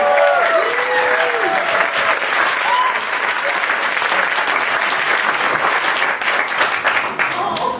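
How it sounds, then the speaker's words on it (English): A large audience claps continuously and loudly as a performer walks up to the microphone, steady dense applause with a few voices and cheers mixed in. "Clap as she comes to the microphone."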